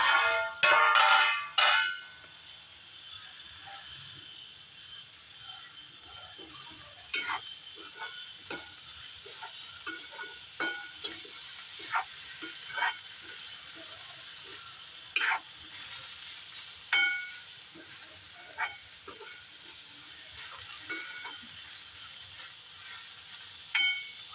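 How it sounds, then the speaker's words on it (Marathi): Red amaranth greens stir-fried in a pan over low gas after being covered, with scraping spatula strokes at irregular intervals over a faint continuous sizzle, busy at the start and then sparser. "आपण आता थोडी ही परतून बघूया"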